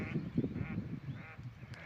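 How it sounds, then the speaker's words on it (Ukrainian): Faint, low quacking calls from a mallard drake and duck, a few nasal honks in quick succession against a quiet outdoor background on the Psel River in the evening. "селезень і качечка"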